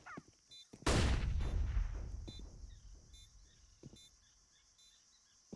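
A single loud gunshot in the video game Counter-Strike: Global Offensive during a professional esports match, a sharp crack with a decaying tail, followed by faint scattered game sounds.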